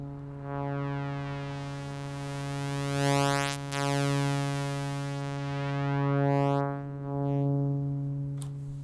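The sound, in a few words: saw wave through Erica Synths Polyvox VCF low pass filter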